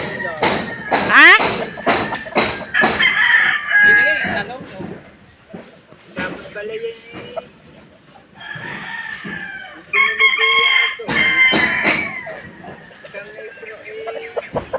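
Roosters crow and chickens cluck close by in repeated bursts, with people talking now and then between the calls.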